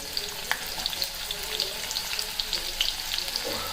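Cumin and onion frying in a hot kadhai with a soft continuous sizzle and small crackling pops scattered throughout, close and moderately loud, no talking.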